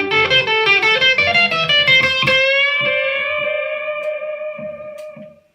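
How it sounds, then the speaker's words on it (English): Electric guitar solo through a delay pedal, a quick run of bright notes ending in a held note whose repeats echo and fade away, loud and alone. "so I can really get some echoes and it's going to sound cool"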